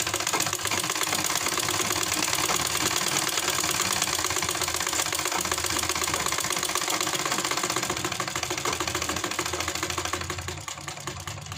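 Sewing machine running a seam on a kurti along a marked line, a fast continuous mechanical chatter of stitching, close and steady, slowing and quieting near the end.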